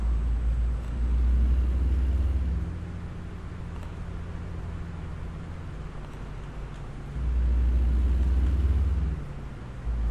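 A truck hauling two trailers in American Truck Simulator rumbles along steadily as a low engine drone, with two louder surges of engine roar near the start and toward the end, and no voices.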